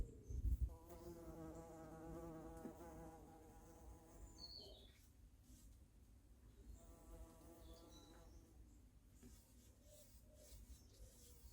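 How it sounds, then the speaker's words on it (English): Two bees buzz steadily around aubergine flowers in a vegetable garden, a close, droning hum that rises and fades in two bursts over quiet outdoor background. "these two bees are going absolutely mad for the aubergine flowers right now"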